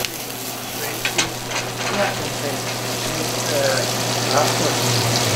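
Butter sizzles and crackles steadily in a hot pan at close range, a continuous frying hiss with scattered pops and a faint low hum beneath, while someone stirs.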